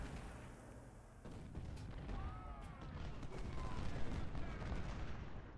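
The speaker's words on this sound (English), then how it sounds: "I'm just going to let my 24-pound howitzers just do what they do" In the Civil War strategy game Ultimate General: Civil War, 24-pound howitzers fire during a battle, a dense rumbling wash of distant booms and crackling gunfire with faint whistles over it, continuous and moderately loud.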